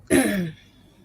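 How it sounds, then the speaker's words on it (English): A single short, rough cough, close and fairly loud, fading quickly into quiet. "can't get this cough out."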